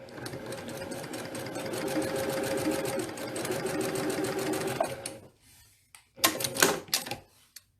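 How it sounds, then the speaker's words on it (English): A sewing machine stitches quilt pieces together in a steady, close whir for about five seconds, pauses briefly, then runs in a few short bursts. "I'm just going to go over here and start sewing"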